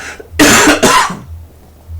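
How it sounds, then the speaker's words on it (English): Two harsh coughs in quick succession, loud and close, followed by quiet room noise. "Sorry for the coughing."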